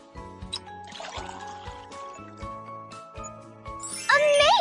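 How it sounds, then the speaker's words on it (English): Water pours in a pony care video game, a light trickle and tinkling splash over a looping game tune, with a brighter chime at the end. "Now add some water."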